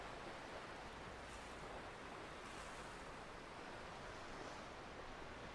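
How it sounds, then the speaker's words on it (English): Ocean waves break and wash steadily in the background of the Chaos;Head visual novel game, making a soft, continuous surf hiss with gentle swells, heard alone. "I heard Shogun's voice mingling with the sound of breaking waves"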